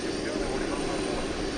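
An airliner takes off from Dallas/Fort Worth Airport at night, a steady, continuous engine roar with broad noise and a low hum, close and fairly loud, unbroken through the moment.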